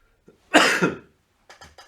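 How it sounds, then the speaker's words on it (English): One loud, harsh cough close by, followed after a pause by three short, quieter coughs in quick succession. "sorry for all this coughing"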